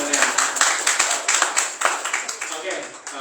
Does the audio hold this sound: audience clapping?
yes